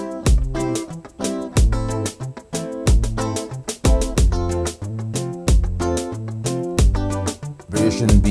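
Plucked guitar strums and picked notes play in a steady rhythmic pattern, close and clear, with no voices.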